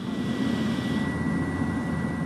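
Inside a BFAR maritime patrol airplane in flight, the engine drone hums in a steady, even roar with a faint high whine throughout.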